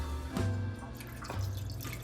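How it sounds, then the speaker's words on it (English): A cup of water poured into a rice cooker over rice and a piece of butter for a Jamaican-style Christmas dinner, a steady close splashing pour with a low hum beneath, lasting about two seconds. "Also need to add a cup of water."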